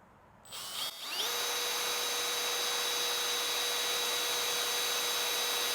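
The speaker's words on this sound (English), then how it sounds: "I'm just going to lightly drill through" Power drill with a small, long bit spinning up and drilling through thick G-Floor Small Coin vinyl trailer flooring: a rising whir that settles into a steady, loud, high-pitched whine, close and alone.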